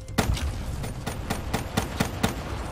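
Gunfire in Call of Duty Black Ops 3, a run of sharp, evenly spaced shots, about eight over a few seconds, each a loud crack over a steady background of game ambience.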